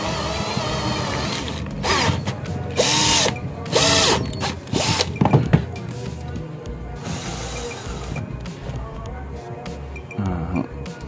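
A power drill whirs in bursts while lapping motorcycle engine valves with fine grit, with mechanical grinding and ratcheting noises close by.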